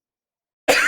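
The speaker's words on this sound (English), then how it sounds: "By the way, I'm coughing." A single cough bursts in sharply after silence near the end, close and loud, with a broad breathy rasp.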